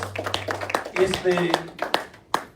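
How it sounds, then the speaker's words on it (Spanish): Church congregation claps during a Spanish-language worship service, a short run of uneven hand claps mixed with a preacher's voice and a few sharper slaps near the end. "aplauso fuerte al Señor."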